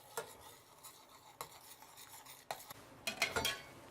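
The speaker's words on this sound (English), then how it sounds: "All right, final stir here." A spoon stirring creamy grits in a pot for shrimp and grits, with soft scraping and several distinct clinks against the pot, busier strokes toward the end, no speech.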